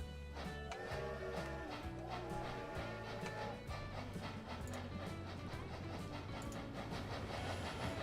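A mini train runs along a mountain route in the simulation game Transport Fever, its continuous rumble and rhythmic clickety-clack of wheels on rail joints holding steady under a dense layer of game background sound.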